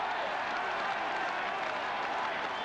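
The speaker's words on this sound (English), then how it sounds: "A roar from the crowd acknowledging that he is." A steady roar from a packed football crowd, loud and continuous, as supporters react before a penalty kick at a West Ham United versus Sheffield United match.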